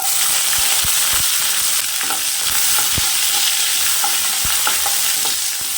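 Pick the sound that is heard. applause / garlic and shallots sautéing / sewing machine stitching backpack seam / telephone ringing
garlic and shallots sautéing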